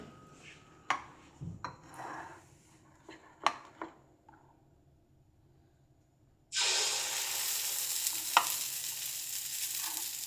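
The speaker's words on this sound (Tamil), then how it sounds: "இப்போ நம்ம 2 தக்காளி அரைச்சி வச்சுருக்குறோம் மிக்சியில் போட்டு, அது போட்டு நல்லா வதக்குங்க" Ground tomato paste sautéing in a pan for prawn gravy: a few scattered clinks and stirring knocks, then a sudden loud, steady sizzle and hiss that holds to the end.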